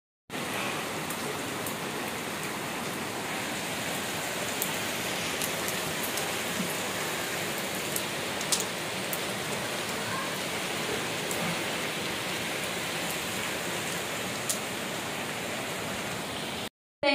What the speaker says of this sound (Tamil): மழை எப்படி பெய்யுதுன்றது